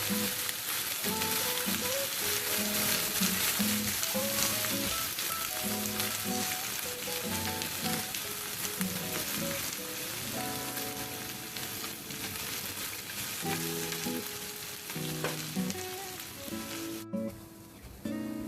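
Crushed potatoes fry and get stirred in a pan for a stuffed bell pepper ring filling, giving a loud, steady sizzle with scraping stir strokes throughout and no talking.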